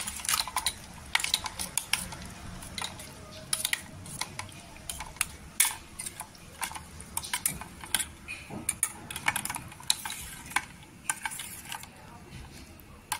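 A spoon scrapes and clinks against a bowl while mayonnaise sandwich filling is mixed for a tricolour sandwich, giving rapid irregular taps and scrapes close by with a faint background hum.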